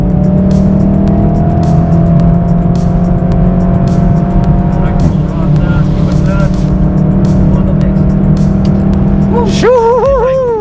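A car driven flat out on a race track during an advanced driving session, a loud sustained in-cabin engine drone at high revs with rising and falling pitch near the end, under a voice talking.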